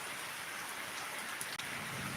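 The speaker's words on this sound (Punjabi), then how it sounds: "ਕਿੰਨਾ ਚਿਰ ਇਹ ਮੀਂਹ ਪਊਗਾ" Steady rain falls in a dense, even hiss for a couple of seconds, fairly quiet with no voices.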